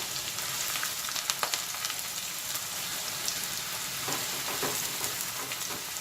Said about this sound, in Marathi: त्यानंतर कांदा घालून घ्यायचा आपल्याला। गॅस मोठाच ठेवायचा आहे।